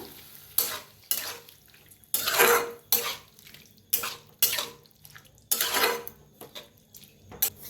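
Potatoes mixed with curd being stirred in a pan over low heat, repeated rhythmic scraping strokes about every half second with a soft sizzle between them and no talking.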